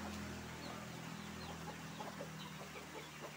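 Chickens of the red breed clucking on a poultry farm, with soft scattered clucks and calls over a steady low hum of farm background noise, faint and fairly distant.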